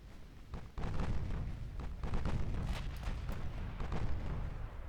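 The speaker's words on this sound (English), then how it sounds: "Engage the closest destroyer, which is the England, with your 8-inch guns." Heavy naval gunfire from 8-inch guns in a warship battle game, a dense run of rumbling booms and blasts rolling on over continuous low battle noise.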